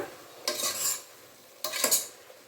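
A spoon stirs mushroom gravy with masala in a pan in two slow, separate scraping passes, with a soft sizzle underneath, close and fairly quiet.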